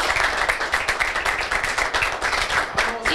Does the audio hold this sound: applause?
yes